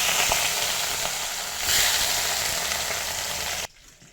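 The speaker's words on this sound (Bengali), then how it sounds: "এবার কড়াইতে তেল গরম করে মাছগুলো ভেজে নেব" Catla fish pieces frying in hot oil in a wok, a loud continuous sizzle with a brief swell midway, then cut off abruptly near the end.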